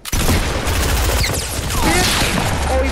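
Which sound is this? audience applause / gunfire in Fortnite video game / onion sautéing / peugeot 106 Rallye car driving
gunfire in Fortnite video game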